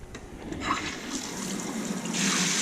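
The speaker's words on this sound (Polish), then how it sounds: "najpierw leci zimna woda i później sobie dodajecie ciepłej, czyli tu jest termostat" Water running steadily from a thermostatic kitchen tap, cold at first with hot mixed in, a continuous close hiss and trickle that swells slightly toward the end.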